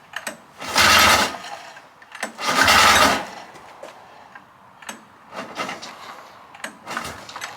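Two loud bursts of a 600cc Arctic Cat engine in a vintage buggy cranking and sputtering, each about a second long, followed by softer clicks and rattles as it fails to catch.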